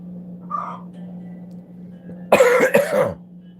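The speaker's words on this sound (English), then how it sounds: "I'll get this coughing fit under control." A short burst of harsh, raspy coughing near the end, two or three hacks close together, after a soft faint sound earlier over a steady low hum.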